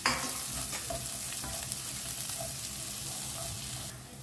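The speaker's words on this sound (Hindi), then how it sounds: "इसमें ना सारी सब्जी डालते हैं, यानी कैबेज, कैप्सिकम और कैरेट, और इसे ना हाई फ्लेम पे ना हमें 1 मिनट के लिए सौटे करना है।" Cabbage, capsicum and carrot sauté on high flame, a dense steady sizzle with scraping stir strokes throughout, close and continuous.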